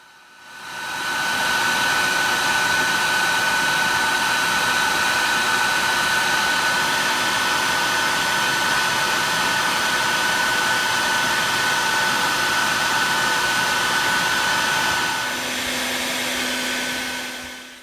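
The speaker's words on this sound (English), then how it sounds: "I'm taking advantage of that and vacuuming them once in a while" A vacuum sucks honey bees from a wild nest while a beekeeper crawls inside it. A loud steady motor whine with airy rushing runs almost the whole time and shifts pitch slightly near the end.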